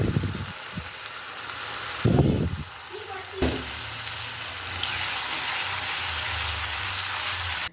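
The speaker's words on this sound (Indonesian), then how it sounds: "tumis bumbu yang tadi sudah dihaluskan. Ditumis, digonsreng-gonsreng sampai bumbu benar-benar matang" Ground spice paste sautéing in hot cooking oil for sambal goreng kentang ati ampela, a close, steady sizzle that swells with each stir and settles into a continuous hiss.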